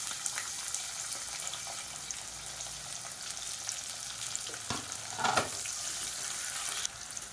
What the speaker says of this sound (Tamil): இப்போ எல்லாமே பொரிய ஆரம்பிக்குது.